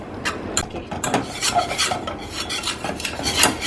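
Flour being stirred into melted butter in a pan, heard as repeated close scraping and rubbing strokes of a spoon against the pan in an uneven rhythm, with no talk.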